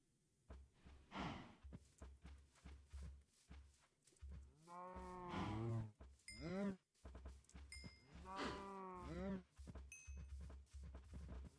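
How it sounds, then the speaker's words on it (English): Baby cows in Minecraft give several drawn-out, warbling moos, each sounding alone against a faint background of soft, regular thuds. "Now we have baby cows."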